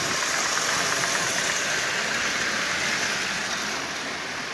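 A Lionel model locomotive with an electronic E unit runs along its track, giving a steady whirring, buzzing motor hum with fine rattling, even and close, with no talk.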